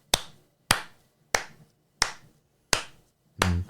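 A person imitates an audience clapping along to a Chitty Chitty Bang Bang overture: six sharp, evenly spaced snaps or claps, close and dry, with nothing else behind them.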